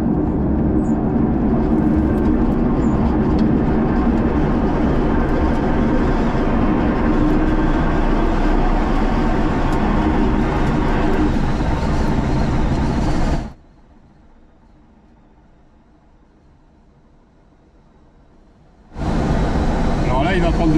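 A glider takes off under tow, a loud, steady broadband roar of wind and engine rising as speed builds, then cutting abruptly to near silence for several seconds before the roar returns.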